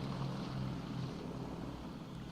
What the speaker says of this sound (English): Is that one of those little small planes?